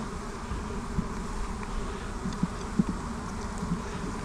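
Honeybees from a farm beehive during an inspection, buzzing steadily in a soft, continuous drone, with a few faint knocks and clicks of hive handling nearby.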